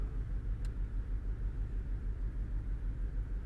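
A Volkswagen Golf GTI engine idles with a misfire, giving a close, loud low rumble that pulses in a steady uneven throb, with one brief tick near the start.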